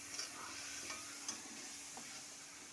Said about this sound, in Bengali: এবার আমি এটা একটুখানি কষাচ্ছি।